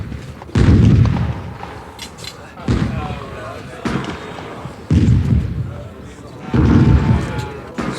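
Heavy booming blasts of cannon fire from many guns land one after another at irregular intervals on a village in the Battle of Borodino, each a deep thud rolling off into a rumble.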